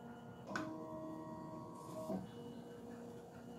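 An embroidery machine traces its design outline before stitching, giving a faint, steady mechanical whir with a couple of soft clicks and brief motor tones over quiet room hum.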